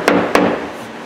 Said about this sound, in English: we take our hammer here, we can test